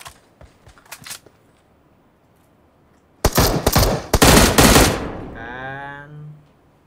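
Gunfire in the video game PUBG: a few scattered distant shots, then a loud, close burst of rapid automatic fire lasting nearly two seconds, followed by a fading ringing tail.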